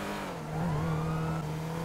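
A damaged car engine in GTA V revs steadily with a rising whine and a rough drone, loud and close, with no voices.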